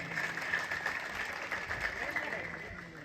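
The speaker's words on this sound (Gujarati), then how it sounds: "આપણે તાળીઓથી એમને વધાવી લઈશું।" A crowd applauds at a tribal cultural unity gathering in Naswadi, a dense, fairly close clatter of clapping that runs steadily throughout, with voices mixed in.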